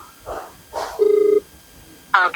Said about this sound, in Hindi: सत्यनारायण जी, उनको कॉल किया जा रहा है इनके द्वारा